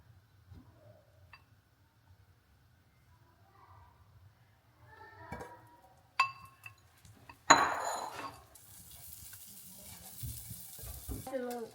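Butter is dropped into a hot pan for cheesy milk bread, followed by a clink of utensils and a soft, steady sizzle that continues in the background after a quiet start.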